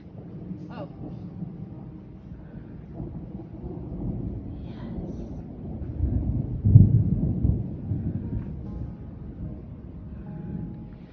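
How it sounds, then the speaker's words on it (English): Thunder rumbles low and heavy during a storm high on a mountain hiking trail, swelling to a loud roll midway through amid wind buffeting the microphone and faint other sounds. "we're caught in a thunderstorm"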